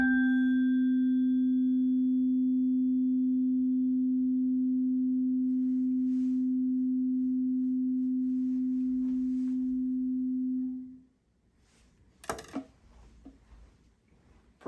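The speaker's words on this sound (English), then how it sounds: "where the tuning fork, this one is exactly 256 hertz" A 256 hertz tuning fork on a resonance box rings as a pure, steady tone that holds for about ten seconds and then stops abruptly. A few faint clicks and knocks follow.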